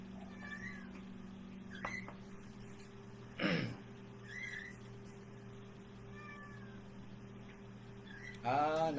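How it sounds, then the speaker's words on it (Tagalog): A domestic pet cat meows several times indoors, short, fairly faint calls spread out over a quiet room, with one louder, longer meow near the end. "yung aming alagang pusa."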